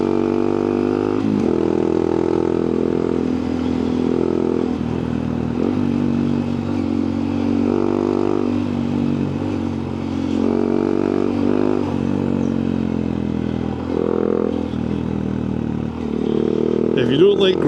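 A Honda Monkey motorcycle ridden along a gravelly Scottish backroad, its small engine droning steadily and fairly loudly close by, with rough crunching and rattling underneath and a voice talking over it.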